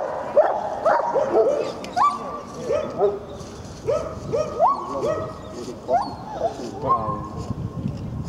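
Dog at a Russian ring sport competition, giving repeated sharp barks and high whimpering yips in an uneven rhythm, close and loud, with people talking underneath.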